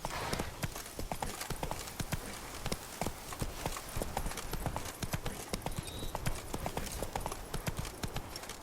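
Roach, the horse from The Witcher 3: Wild Hunt, gallops with fast rhythmic clip-clop hoofbeats, close and steady throughout, with faint game ambience and a brief voice in the background.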